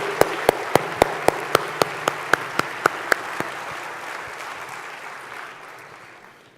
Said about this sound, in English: Let's have another round of applause for Kevin Jones